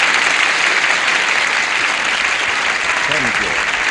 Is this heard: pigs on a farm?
no